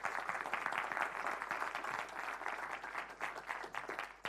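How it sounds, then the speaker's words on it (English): Audience applause at a data and privacy summit, a steady sustained clapping from a crowd that continues for several seconds without a break. "Give them a round of applause."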